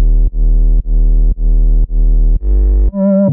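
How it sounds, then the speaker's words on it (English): A layered synth bass from a remake of a song plays loud and alone in repeated sustained notes with short gaps, shifting to a brighter, higher tone at the end. "So next we can talk about the bass, and that sounds like this."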